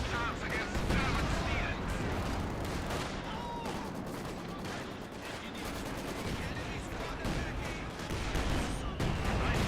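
Explosions, artillery and small-arms fire from a Company of Heroes 2 battle rumble and crackle continuously at close range, with a voice talking over the combat.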